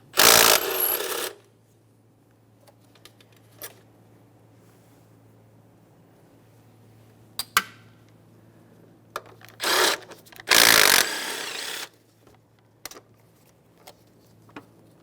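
Hand and power tools work on the throttle body bracket bolts of a 2008-2017 Mitsubishi Lancer, with a few short, loud ratcheting or buzzing bursts separated by quiet stretches and light clinks.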